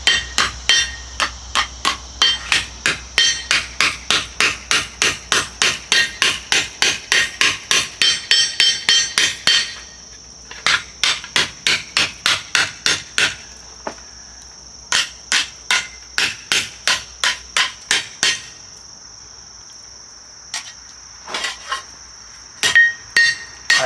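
Hammer striking a forged shovel piece on the heel of an anvil: a fast run of sharp, ringing metallic blows, then sparser strikes with pauses, each hit leaving a bright lingering ring, loud and close.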